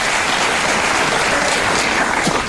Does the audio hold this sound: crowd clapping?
yes